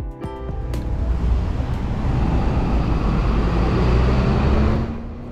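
Hong Kong double-decker electric tram travelling the Happy Valley route from Kennedy Town, heard as a loud, steady rumble and rattle of wheels on track that holds throughout and eases at the very end.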